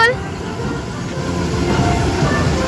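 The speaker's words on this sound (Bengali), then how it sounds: "আমরা কিন্তু এখন গিয়ে উঠবো ট্রেনে।" An amusement park ride train at Magic Island in Keraniganj, Dhaka rolls along with a steady, close, low rumble and faint rattling throughout, under soft crowd noise.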